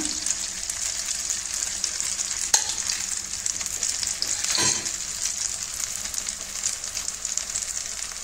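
Egg uthappam batter sizzles and fries on a hot pan with ghee, a steady bright crackle running throughout with a couple of brief clinks, no voices.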